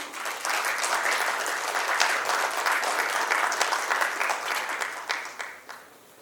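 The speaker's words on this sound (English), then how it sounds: "I request all of you to please clap for him" Sustained applause from an audience at an auto retail business conference, steady dense clapping filling the hall for several seconds before tapering off at the end.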